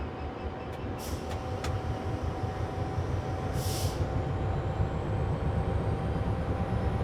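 A DRS Class 66 diesel locomotive in Train Simulator, a continuous low engine rumble with rolling rail noise and a few brief high hissing bursts, steady and fairly loud with no talking.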